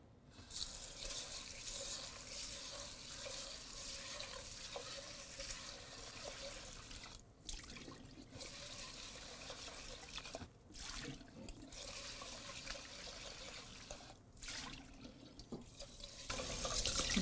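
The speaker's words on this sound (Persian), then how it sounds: "که اینو من خوب میشورمش و بعد با آب گرم خیسش میکنم." Rice for Persian kateh is washed under tap water running into a sink, a soft, continuous stream with slight splashing and a few brief breaks, faint throughout.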